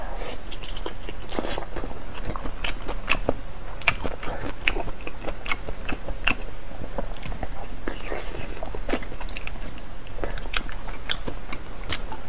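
Close-up eating of roasted pork, egg, vegetables, pepper and noodle soup, with continuous wet chewing, biting and slurping that stays close and steady, and soft whispered talk underneath.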